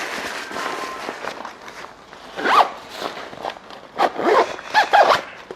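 A zipper on the pocket of a Yamaha Tricity 300 scooter apron is pulled in several quick, close rasping strokes, with light fabric rustling between pulls.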